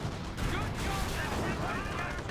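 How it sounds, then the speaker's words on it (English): Anti-tank guns on a flank fire at a Panzer IV in Company of Heroes, with rapid, overlapping battle shots and bursts over a dense combat din. "Panzer IV now pulling the field. Very nice. And but it's getting ripped apart by the AT guns on the flank."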